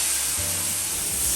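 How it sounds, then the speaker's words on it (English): White wine hitting a hot pan with butter, shrimp and diced onion, giving a loud, close, continuous hissing sizzle that fills the whole short moment. "To that, we're going to add some white wine."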